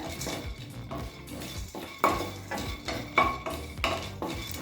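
Peanuts being dry-roasted in a pan, with repeated metallic scrapes and clinks of a spoon stirring against the pan in an irregular rhythm, close and fairly quiet, no talking.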